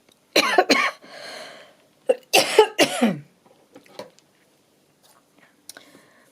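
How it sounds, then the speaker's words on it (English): A person coughs several times in two short fits, close and loud, with quiet breathy sounds and small clicks in between. "Sorry about the coughing still."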